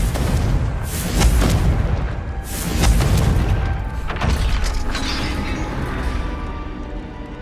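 Confringo blasting spell explosions in Hogwarts Legacy, deep booming blasts that come in several heavy waves with crashing debris and a rumbling tail, loud and close.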